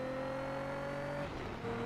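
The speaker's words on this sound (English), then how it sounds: "the sound of the cars isn't great, is it?" Racing video game cars with a steady, continuous engine drone holding a sustained tone, then briefly shifting and settling as a car slides around a corner under the handbrake, with no talk over it.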